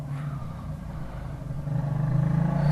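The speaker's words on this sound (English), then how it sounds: "the motorbikes are noisy." Motorbikes heard passing outside through an open window. A steady low engine drone rises toward the end, with rumble and a slight revving pulse. Muffled and moderately distant, with no voices.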